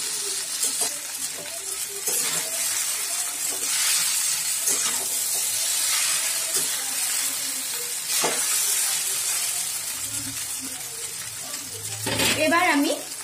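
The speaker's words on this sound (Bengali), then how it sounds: "5 মিনিট ধরে মিডিয়াম আঁচে চাউমিনটাকে ভালোভাবে ভেজে নেব।" Egg chowmein fries in a pan over medium heat, a steady close sizzle with occasional stirring scrapes and clatter of a utensil throughout.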